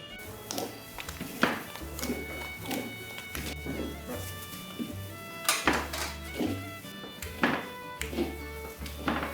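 Khoa, thickened milk solids for peda, is stirred in a pan after cardamom and nutmeg are added. A utensil scrapes and taps against the metal in an uneven rhythm of repeated knocks, fairly close and moderately quiet.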